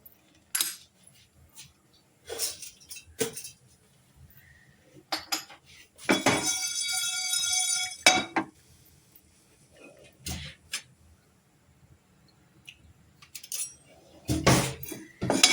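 Fennel seeds, coriander seeds and black pepper dry-roast in a pan, heard as scattered metallic clinks and scrapes of stirring with a brief rattling burst midway and quiet gaps between.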